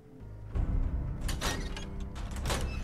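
A door in the Fallout 4 VR game swings open on its own, nudged by the dog Dogmeat, with a low thump followed by a couple of sliding, creaking mechanical surges that carry on for a few seconds.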